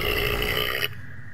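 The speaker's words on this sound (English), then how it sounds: "Burp." A single loud, close burp, raspy and voiced, lasting under a second before cutting off to quiet room tone.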